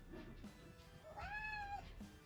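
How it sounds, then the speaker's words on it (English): A cat meows once in a drawn-out, rising-then-falling cry, fairly close, against a quiet room with faint background murmur. "a meow."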